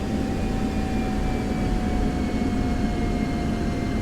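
An F-16 jet engine whines steadily at taxi power in DCS World, with a constant deep rumble under it and thin high tones, close and unbroken.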